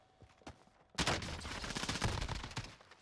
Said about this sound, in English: I believe he's getting shot by another enemy too